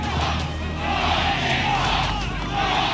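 A large crowd at a presidential rally roars with a continuous, dense wash of voices and shouting, loud and close, with no distinct rhythmic chant standing out.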